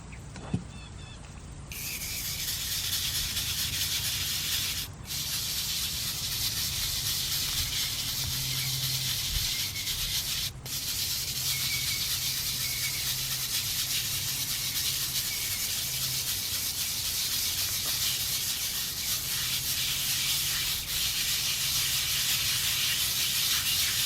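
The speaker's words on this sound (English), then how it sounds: "So we're gonna try adding a little bit more here and just scrub it with it on there." Continuous harsh scrubbing of a concrete driveway oil stain coated with toilet bowl cleaner, a loud steady rasping hiss close to the brush with a couple of brief breaks, no talking.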